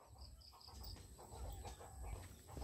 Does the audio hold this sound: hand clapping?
no